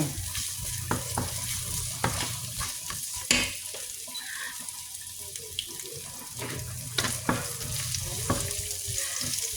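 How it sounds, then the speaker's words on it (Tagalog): Pinakbet vegetables sizzle in a pan while being stirred and tossed until brown, a continuous hissing fry broken by scraping and clattering knocks of the utensil, close and steady. "Itotos muna natin siya hanggang mag-brown."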